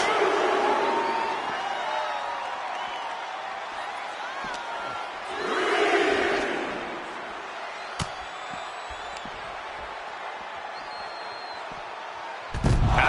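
An arena crowd roars in the WWE 2K25 wrestling video game, swelling to a loud cheer midway before easing back to a steady murmur, with a sharp slam and a few thuds along the way.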